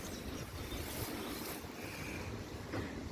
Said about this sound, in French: je sais pas si on entend mais il y a un peu de vent